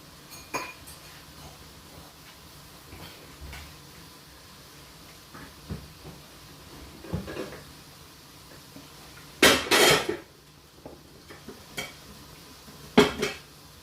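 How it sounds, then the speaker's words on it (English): A cooking pot is set down on a kitchen stove with a few sharp metallic clanks and clinks. The clanks sit among sparse, quiet kitchen clatter, with one louder cluster of knocks near the end. "So I'm going to put the pot on for the fish."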